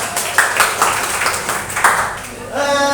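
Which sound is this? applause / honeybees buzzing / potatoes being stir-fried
applause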